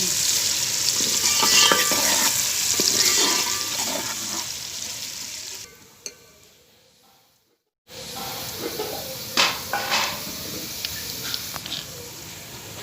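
Onions frying in ghee for a Punjabi saag tadka, a loud continuous sizzle that fades almost to silence partway through, then resumes strongly with crackles and stirring.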